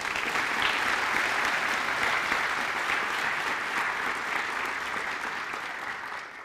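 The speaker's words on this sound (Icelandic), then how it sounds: "ég bið ykkur að klappa fyrir honum" A hall audience claps steadily for a graduate at an Icelandic student graduation ceremony, a dense, even wash of applause that holds for the whole stretch and only eases slightly at the end.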